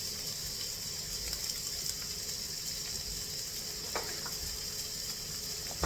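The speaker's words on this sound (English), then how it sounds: "you can just toss it in your pan just like this. If you want to caramelize those onions and peppers" Onions and peppers frying in a pan give a steady, soft sizzle that hisses on without a break, with a faint clink or scrape near the end.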